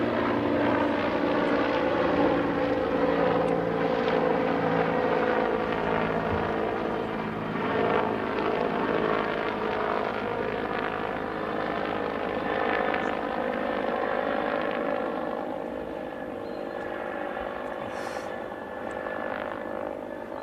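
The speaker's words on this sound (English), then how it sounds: "the helicopter goes right above us" At an outdoor lawn bowls final, a helicopter passes directly overhead, its engine and rotor drone loud and steady at first, then slowly fading as it moves off.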